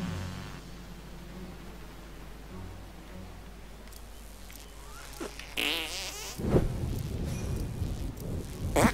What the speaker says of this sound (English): Did I just fart, or was I just thinking about farting?